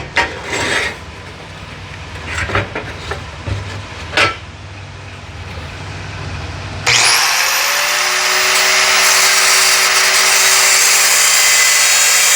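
A power tool cuts into a Corvair oil housing during an 8-plate to 12-plate oil modification. A few scattered clanks and scrapes come first, then a loud, steady whining cut begins abruptly and holds to the end.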